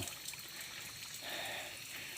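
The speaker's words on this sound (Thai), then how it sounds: "ดูบรรยากาศครับน้ำตกเล็กๆครับ" A small waterfall near a mountain flows in a constant close wash of splashing, trickling water, with no voices over it.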